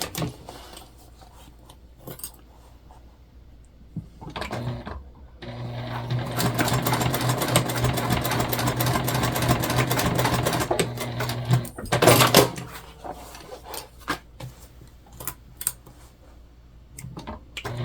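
Sewing machine stitching a self-drafted tote bag, a steady mechanical whir running several seconds between short bursts and clicks of handling.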